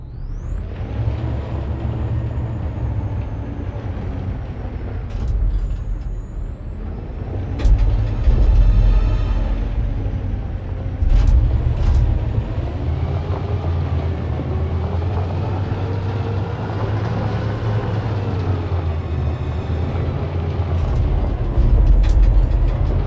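Truck engine rumbles steadily in the game Detroit: Become Human, with sharp hissing air brake releases breaking through several times over a continuous low drone; no one speaks.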